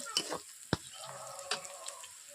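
Mustard water goes into hot oil for a Bengali silver carp fish curry, giving a soft hiss and crackle of frying with a sharp pop near the start and light scattered spatters.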